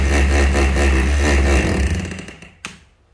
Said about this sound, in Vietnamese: Đây là nấc đục bê tông này